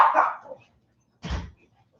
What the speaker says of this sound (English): And now we're really going to get dog barking.